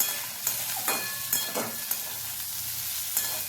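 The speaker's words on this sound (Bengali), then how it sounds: "এখন পটলটা নাড়াচাড়া করে বেশ ভালো করে ভেজে নিতে হবে" Soft, steady frying in oil with a few light scraping knocks as pieces of pointed gourd are stirred around the pan, fairly close and unhurried.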